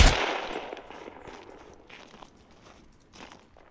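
A single loud gunshot in the video game Scum opens the clip, its boom decaying into faint crackles and scattered thuds.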